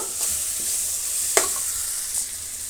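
Tomato and masala powders fry in a pan with a steady, close hiss of sizzling, punctuated by a few scraping stirs of a spoon; no one speaks.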